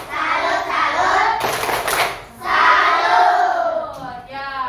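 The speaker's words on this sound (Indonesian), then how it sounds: "Berikan tepuk salut untuk kelompok Ahmad Subarjo" A group does a rhythmic clapping chant for a team during an academic coaching session, with loud unison claps and shouted chant bursts in a lively crowd, voices joining the rhythm.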